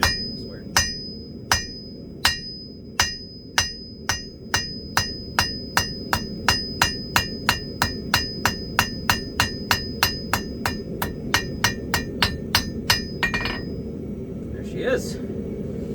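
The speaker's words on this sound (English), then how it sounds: "we're gonna go ahead and strike this directly on the corner, the one that's on the opposite taper" A hammer strikes hot steel on an anvil while forging a leaf, about two dozen sharp ringing blows that start slow and spaced, then quicken into a steady rhythm before stopping, close and loud.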